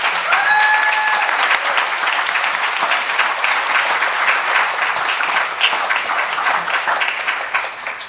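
Steady, dense applause from a community audience at an evening gathering in Hawaiʻi, loud and continuous throughout, tapering slightly toward the end.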